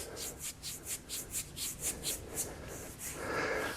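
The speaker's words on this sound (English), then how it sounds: "rubbing with the knuckles." Knuckles rub over the feet during seated tai chi self-massage, giving soft, rhythmic rasping strokes about twice per second that fade into a steadier rustle at the end, with no talking.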